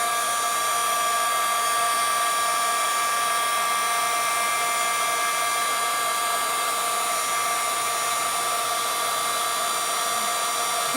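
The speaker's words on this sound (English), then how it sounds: "Heat up my embossing gun." Heat embossing gun blowing hot air for card making, a steady continuous whirring hiss at constant loudness for the whole stretch, with no talk over it.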